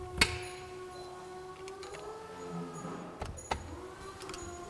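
Sunbeam Alpine gearbox selector rods are slid in and out: sharp metallic clicks and clunks, one near the start and a few near the end, over a quiet steady hum, with no talk.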